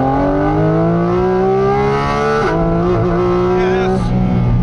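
A Porsche GT4 RS with PDK gearbox revs hard on a mountain pass, its loud engine note climbing steadily before dropping sharply through quick downshifts with brief blips, close and continuous.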